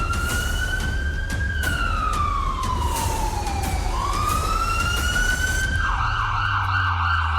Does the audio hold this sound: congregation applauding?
no